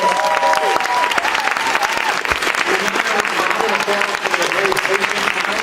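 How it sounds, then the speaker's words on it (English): A crowd at a Colossalcon 2017 anime convention wig contest claps loudly and continuously for the contestants, dense applause with a voice speaking over it at the start and cheers mixed in. "let's hear one more big round of applause for all of our contestants"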